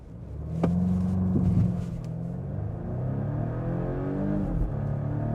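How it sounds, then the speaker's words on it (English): A 2025 Volvo V60 B5 Cross Country engine revs hard under acceleration, with a brief exhaust crackle at a gear shift, then a steady rumbling drone continues. "it actually makes a nice fart sound from the exhaust on that first shift"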